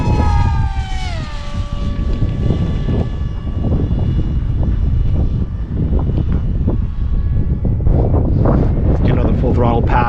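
An 800mm Astro Z RC pusher jet on a 4S battery whines past on a windy day, its motor tone dropping in pitch as it passes, then stays loud and steady amid buffeting wind noise.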